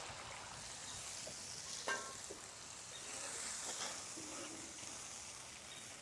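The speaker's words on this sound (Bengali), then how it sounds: "এবারে মশলার মধ্যে ঠিক এতটা পরিমাণ জল দিয়ে দিব" Water is poured into fried spice paste in a pan while cooking a gravy for stuffed pointed gourd dolma with fish roe, giving a soft, steady sizzling hiss that stays faint throughout.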